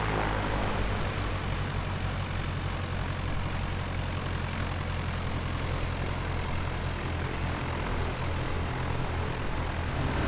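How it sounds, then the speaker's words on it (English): A Piper Cub propeller engine in a flight simulator game drones continuously at a steady, loud pitch, a dense unbroken roar with no voices over it. "Listen to the way this engine sounds at all angles."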